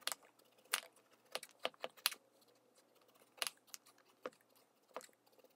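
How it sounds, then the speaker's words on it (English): Peeling a raw acorn squash: crisp, irregular scraping strokes and snaps of the peel, close by and fairly quiet, with brief pauses between strokes and no voices. "First, you have to peel the squash."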